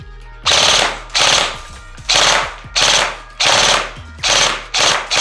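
A Novritsch SSR4 airsoft rifle fires on full auto with short-magazine feeds: seven loud, close bursts of rapid mechanical rattling, each lasting about half a second and separated by brief pauses.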